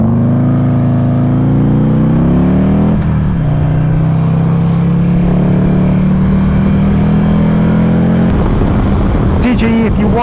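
Buell XB9 motorcycle engine droning steadily while riding, a loud continuous hum that rises in pitch early on, then holds steady before a brief change near the end, with wind rush throughout.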